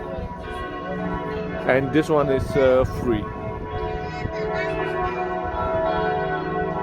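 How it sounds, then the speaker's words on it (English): Church bells ring across central Frankfurt, sustained tolling tones layered in the background while a person talks briefly over them on a city street. "You hear all the churches and ringing of the bells."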